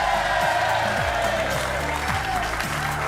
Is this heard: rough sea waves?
no